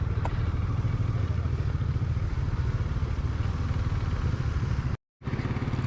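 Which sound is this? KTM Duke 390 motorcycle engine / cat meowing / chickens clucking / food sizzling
KTM Duke 390 motorcycle engine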